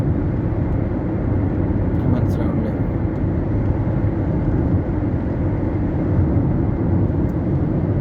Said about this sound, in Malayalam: അവിടെ നിന്നൊരു ഫ്ലൈറ്റ് പൊന്തുന്നുണ്ടായിരുന്നു, ടേക്ക് ഓഫ് ചെയ്യുന്നുണ്ടായിരുന്നു.